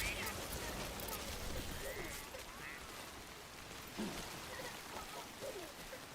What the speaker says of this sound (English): Now if the frickin' rain would stop, I'd be even better.